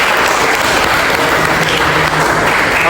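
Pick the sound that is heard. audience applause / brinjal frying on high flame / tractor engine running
audience applause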